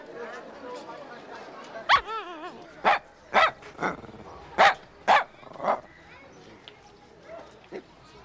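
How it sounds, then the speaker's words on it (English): A Lhasa Apso dog gives a run of sharp, close barks and yips at uneven intervals, mixed with a short whimper, while people talk around it. "Isn't this, what do you call it? Lhasa Apso?"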